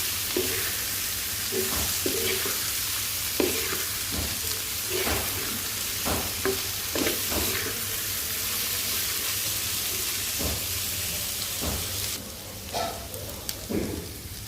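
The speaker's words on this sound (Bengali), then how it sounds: "একটু পরপর নেড়ে চেড়ে দেবো বারবার তো দেখানো যায় না তো একবার দেখালাম একেবারে ভাজা ভাজা করে নামিয়ে নিব" Bitter gourd (karela) frying in oil in a pan, a steady close sizzle broken by repeated scraping stirs.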